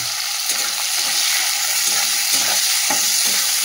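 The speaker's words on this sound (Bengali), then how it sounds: "পেঁয়াজটাও দিয়ে দিলাম" Chopped onion dropped into hot oil with tempering spices, frying with a loud, steady broadband sizzle throughout, broken by a few soft scraping stirs of a spatula.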